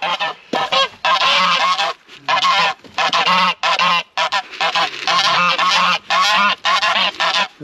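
A flock of geese in a poultry yard honks loudly in repeated bursts, with brief pauses between clusters of harsh, overlapping calls.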